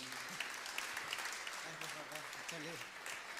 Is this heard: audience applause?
yes